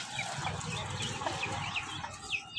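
Backyard chickens and roosters, including young cockerels, clucking and calling in overlapping bursts, moderately close over a soft outdoor background.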